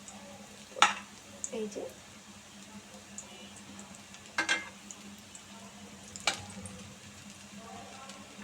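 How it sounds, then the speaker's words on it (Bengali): Chicken tikka kababs fry lightly in a pan with a low, steady sizzle, broken by a few sharp clinks and scrapes, while a voice speaks briefly nearby. "একটু ভেজে নেব, হালকা ভাজা করে কিছুটা তুলে নেব"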